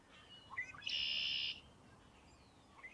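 A red-winged blackbird (Agelaius phoeniceus) sings once, a few quick introductory notes followed by a loud, sustained buzzy trill lasting about half a second, heard close and alone against quiet outdoor background.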